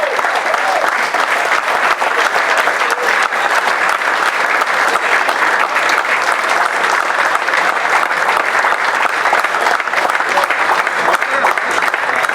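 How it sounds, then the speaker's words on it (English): Sustained applause from an audience at an over-50s Caribbean Cup cricket award ceremony, dense and steady clapping filling the room for twelve seconds without a break. "So big round of applause, Matthew."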